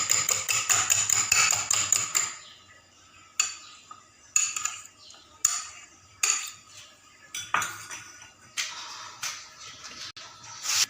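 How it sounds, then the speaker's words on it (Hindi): Fork whisking egg against a bowl for an egg mixture for vegetable kebabs, a quick dense burst of clinking at first, then short separate spells of metal scraping and tapping with pauses between, close and alone with no talk. "अंडा फेंटते हुए आप कांटे इस्तेमाल करें या एग बीटर इस्तेमाल करें"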